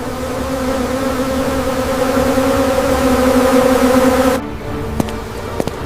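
A swarm of bees buzzes loudly in a dense, steady drone that cuts off abruptly, leaving a quieter background with a few brief clicks.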